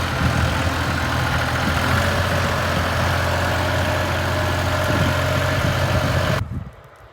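A Scout XT-244 tractor, a 24-horsepower model, sits idling with a steady low diesel rumble close by, running evenly until the sound drops away abruptly near the end.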